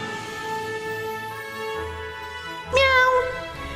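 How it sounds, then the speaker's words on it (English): A single cat meow sounds near the end, loud and close with a rising then falling whine, over a steady background of sustained musical tones. "But even there he was troubled by the cat that lived there."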